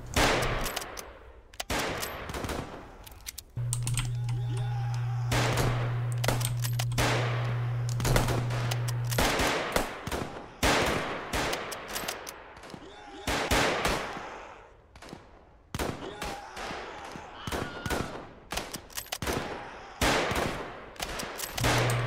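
Roblox gunfire in 55 Days at Peking, scattered bursts of loud shots and rapid volleys across a long stretch, with a sustained droning tone partway through and gaps between the firing.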